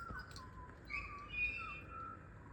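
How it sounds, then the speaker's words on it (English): Butcher birds calling outdoors: faint, distant whistled notes over a low steady background rumble. "Oh, the butcher birds have arrived."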